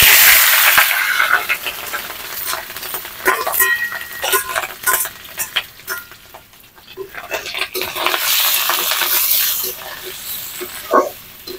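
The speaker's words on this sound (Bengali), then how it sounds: "তেলটা গরম হয়ে গেছে, এখন আমি ডিমগুলো ঢেলে দিব।" Boiled eggs fry in hot oil in a wok over a clay stove, a steady bright sizzle with scattered clicks and scrapes from stirring, loud and close throughout.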